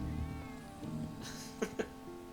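A cat meows a few times in Final Fantasy VII Remake, a short faint cry over soft game music and ambience, followed by two sharp clicks.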